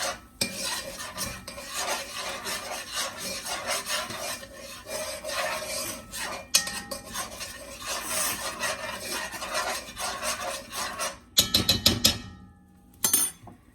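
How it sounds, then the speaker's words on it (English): A spoon stirs food in a cooking pot alongside pork chops, giving continuous rough scraping and rubbing against the pot for most of the stretch, then a brief pause and a few last scrapes. "Stir that up"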